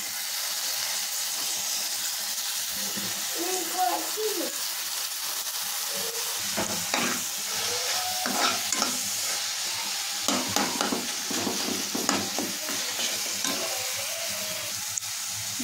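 Tomatoes are stirred into a frying potato and green pea curry, making a steady sizzle with repeated scraping stirs and wet squelches, close up, with brief talk at times.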